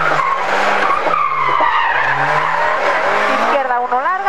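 A rally car brakes hard on a tarmac stage in Cobreces, Spain, its tyres squealing in a long, loud skid heard from inside the cockpit, with the engine note dropping and then rising again.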